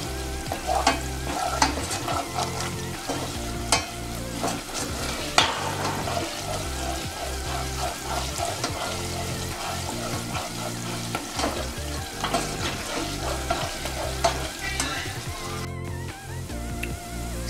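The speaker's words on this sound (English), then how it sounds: "So guys, this is how my oil is cooking." Homemade coconut oil fries and sizzles in a pot while being stirred, a dense crackling sizzle with frequent scraping stir strokes throughout, close and fairly loud with no talking.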